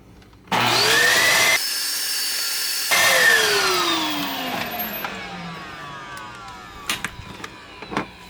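A Bissell 16N5 upright vacuum cleaner switching on and running with a steady loud whine, cutting out briefly, restarting, then winding down with a falling pitch and a few clunks as it stops.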